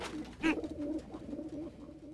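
A pigeon coos close by inside a house, a soft repeated throaty call standing alone against quiet background.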